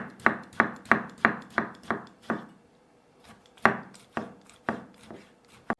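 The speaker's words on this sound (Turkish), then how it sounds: "Domatesimizi de küçük kuşbaşı doğrayacağız." A knife dices tomatoes into small cubes on a cutting board, a quick even run of crisp taps, a brief pause, then another run of chopping.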